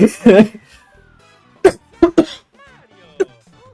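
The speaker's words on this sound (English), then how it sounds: "I hate that I still have this cough." Several sharp coughs, close and loud: a pair at the start, then three more in quick succession, and a final short one after a pause.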